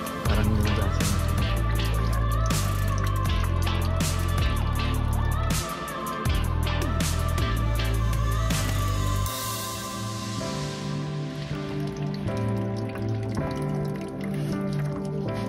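An old mag wheel being wet-sanded with water, giving a steady wet rubbing and squishing with dripping, under a loud backing of music.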